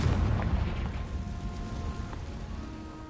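Confringo blasting curse exploding in the Hogwarts Legacy video game, a loud low boom at the start that decays into a fading rumble with crackling debris and faint tonal game ambience.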